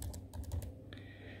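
Repaired laptop keys are pressed and bounce back, a quick run of five or six light plastic clicks followed by a softer tap, close and quiet.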